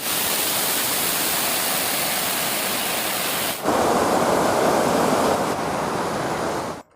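Waterfall in Kaimur, Bihar, a dense continuous roar of falling water, loud and close, with a brief shift in tone midway before cutting off.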